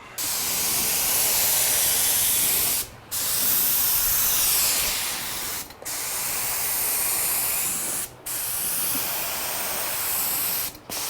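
Spray paint hisses steadily onto a Club Car DS golf cart body outdoors, loud and close, in long continuous bursts broken by three brief pauses.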